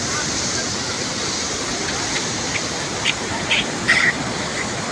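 Steady broadband rush of the Vattakadu waterfall in the Yercaud foothills beside sugarcane fields, a constant even roar with a few faint higher splashes or chirps near the end.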